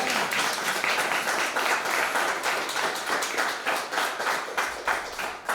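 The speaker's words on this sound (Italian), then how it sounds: "Un applauso al fonico." An audience in Italy applauds the sound engineer, a dense, steady burst of many hands clapping at close range with no talk, holding strong for several seconds before thinning slightly at the end.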